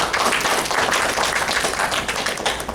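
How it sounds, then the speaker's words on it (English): A convention open-mic audience applauds with dense, steady clapping that fills the space, loud and sustained throughout. "Give him a round of applause."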